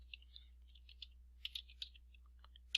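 Fingers tap out an email address on a computer keyboard, giving a quiet, irregular run of light key clicks with short pauses between them.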